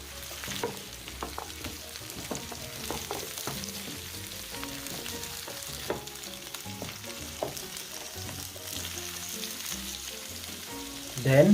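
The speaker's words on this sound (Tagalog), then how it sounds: "It's time to add our squash." Squash pieces drop into a pan of frying pinakbet vegetables, and a steady close sizzle follows with scattered stirring clinks and scrapes, without any voices.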